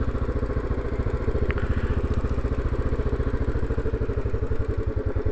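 A trail motorbike rides down a country lane, its single-cylinder engine chugging in a steady, close, rhythmic thump throughout, with no talking.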